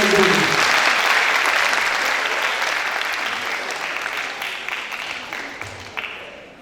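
An audience at a cosmology lecture breaks into sustained applause, welcoming Professor Jihad Boumaaza to the stage. The clapping is dense and loud at first, then fades gradually over several seconds, with a few scattered claps near the end.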